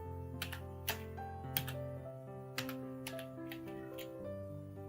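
Typing on a computer keyboard, with light, irregular key clicks over a steady tonal hum of background music. The typing is near but soft, and no one speaks.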